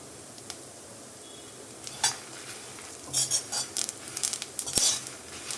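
Spices fry in a pan on a gas stove as asafoetida goes in, a faint steady sizzle under light metallic stirring scrapes and taps, close up, with no talk.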